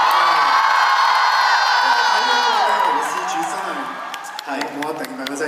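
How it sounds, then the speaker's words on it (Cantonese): A live concert crowd cheers and whoops loudly and continuously, with high shouts layered over the roar before it settles slightly toward the end. "我覺得係咪多啲歡呼聲先啊"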